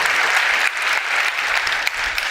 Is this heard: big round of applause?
yes